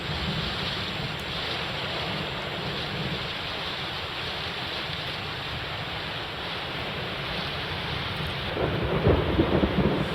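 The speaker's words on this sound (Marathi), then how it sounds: "मध्यरात्रीपासून पुणे शहरामध्ये देखील मुसळधार पाऊस हा पडतोय" Heavy monsoon rain pounds down over Pune at night, a dense, unbroken roar close by, with deep thunder rumbling toward the end and no voices.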